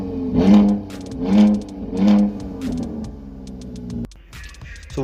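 A Jeep Grand Cherokee SRT conversion is revved three times in quick succession, each blip swelling and falling back, then the engine settles into a lower, steadier idle. It is loud and close, with no one talking.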